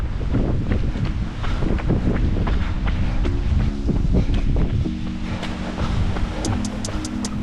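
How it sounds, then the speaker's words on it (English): Strong storm wind buffeting a runner's microphone outdoors, a loud, continuous roaring rumble with gusty surges across the whole stretch, no speech. "We're running in Storm Amy, so a little bit windy. It's picking up a little bit now."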